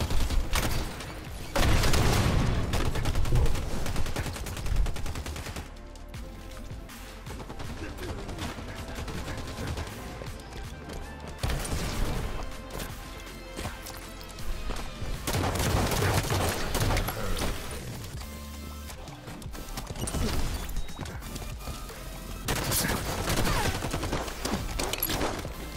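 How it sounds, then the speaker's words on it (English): Gunfire in a free-for-all shooter video game, with loud bursts and rapid volleys coming in repeated waves and short lulls throughout. "Shots."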